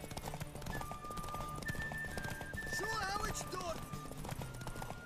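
A horse gallops in The Witcher 3, with steady rapid hoofbeats clip-clopping throughout and a short whinny partway through, set against game music and someone talking over it.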